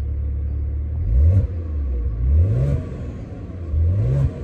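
Maserati Ghibli 3.0 V6 in normal mode revs three times, each rising blip climbing from a low rumble and falling back to idle, close and fairly loud with no voices.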